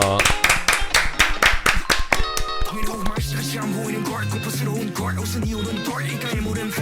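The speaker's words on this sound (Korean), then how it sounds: "박수로 마무리합시다." A short round of closing hand claps, a quick burst of sharp close claps at the start that gives way to music with a steady beat for the rest.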